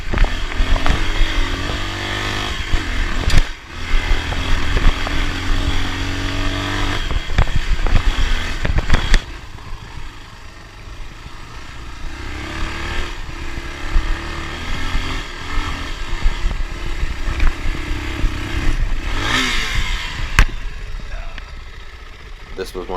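A dirt bike engine drones and revs steadily while riding a rugged Alaska mountain trail, loud and continuous with gear shifts, a brief drop in intensity midway and occasional bumps and clatter.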